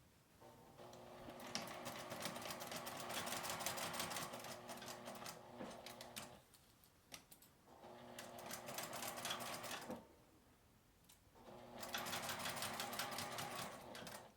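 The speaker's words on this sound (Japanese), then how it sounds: "返し口を開けて1センチの縫い代で縫います。" Sewing machine stitching fabric for a small coil-zipper keychain pouch, running in three long steady bursts with short pauses between, close and fairly loud with no talk.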